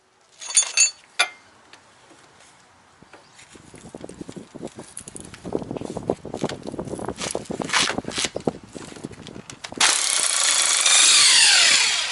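Pneumatic impact gun working the rear strut nut on a Toyota Camry, a short rattling burst near the start, then scattered clanks and scraping, ending in a loud sustained whirring burst up close.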